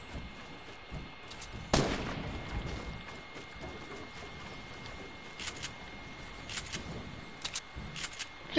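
Gunfire in the video game Fortnite: one loud sharp shot near the start, followed by scattered fainter shots and clicks over a steady game background.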